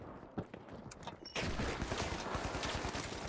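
AK rifle fire in the shooter game The Finals, with a few scattered shots followed by a dense, sustained burst of rapid automatic gunfire that stays loud and continuous to the end.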